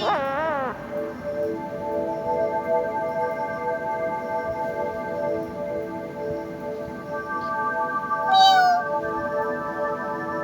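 A drawn-out cat meow opens the clip, followed by a sustained tonal drone and another short, higher meow-like cry near the end.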